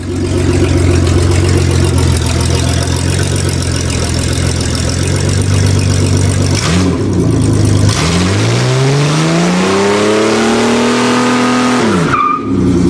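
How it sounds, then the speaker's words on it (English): A pickup truck does a two-wheel-peel tire burnout: the engine roars at sustained high revs with screeching tires, drops briefly, then climbs again in long rising revs, loud and close throughout. "That's two-wheel peel."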